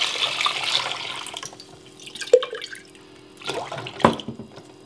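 Water-glassing solution is poured over clean eggs in a container, making uneven splashing and trickling bursts with short pauses between pours, fairly close and without voices.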